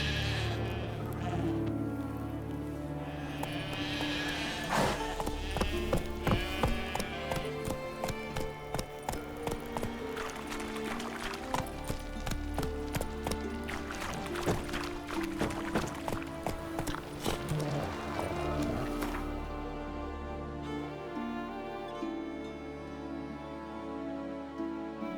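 Hooves of the horse Roach pound in a quick, steady rhythm during a ride in The Witcher 3, a close run of thudding beats over a background of game music.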